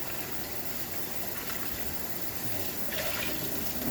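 Tap water runs steadily over sliced bell pepper in a kitchen sink, a constant close hiss with brief splashes as the pieces are rinsed.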